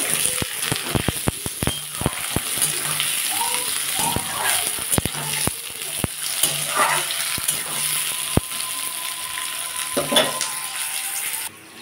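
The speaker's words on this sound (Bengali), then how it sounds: "এবং পেঁয়াজও দিয়ে দেবো, আলু পেঁয়াজ একসাথেই ভেজে নেব।" Potatoes and onions fry together in a pan for a Bengali matar ghugni, giving a steady sizzle broken by frequent sharp clinks and scrapes of a spatula stirring against the pan.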